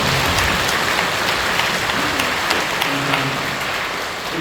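A church congregation breaks into steady, dense applause that fills the sanctuary, many hands clapping together at an even level with a low murmur beneath and no clear voice standing out.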